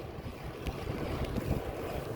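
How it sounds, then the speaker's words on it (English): Strong wind roars and buffets the microphone during a long-distance bike ride, a constant, loud, low rushing with no voices. "It's so gosh damn windy."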